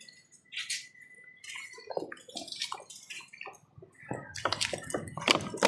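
Water being fetched in a Tamil village, with splashing, sloshing and dripping as containers are filled and moved, in irregular bursts that grow louder toward the end, with no talk.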